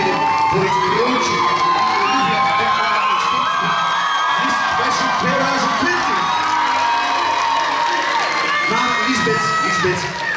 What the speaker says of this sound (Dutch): We zijn natuurlijk aan het applaudisseren, Olivia, inderdaad, voor de 10 finalistes